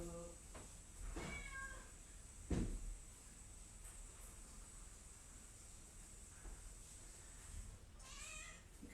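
An annoyed cat meows indoors, several short rising calls at a close distance, quiet against a faint hum, with a thump and a door-like sound in between.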